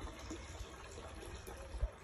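Water sloshes and swirls as it is stirred in a jar of soil to wash out clay and silt, a faint, close liquid movement with a small knock near the end.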